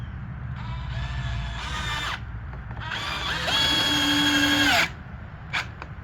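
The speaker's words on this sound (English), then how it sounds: "just like that, the screws go in" A power drill drives screws into a wooden sifter box, whining as the motor revs up and strains in two long runs, followed by a few brief clicks, close and loud over a steady background hum.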